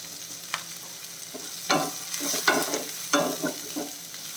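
Sliced onion sautés in ghee in a pan, giving a soft sizzle under several scraping stirring strokes that come in irregular bursts, close and alone.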